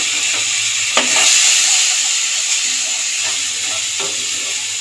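Mustard paste with turmeric and green chili frying in a pan, a loud continuous hiss and sizzle broken by a few soft scrapes of stirring.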